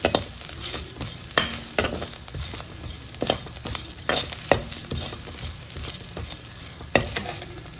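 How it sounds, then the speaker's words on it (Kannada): Chopped vegetables fry in a small amount of oil in a pan, a steady close sizzle broken by repeated scraping and stirring clatters, with no talk. "ಇಷ್ಟೇ ಸ್ವಲ್ಪ ಎಣ್ಣೆಯಲ್ಲಿ ಈ ರೀತಿ ನಾವು ಇದನ್ನೆಲ್ಲ ಹುರ್ಕೋಬೇಕು"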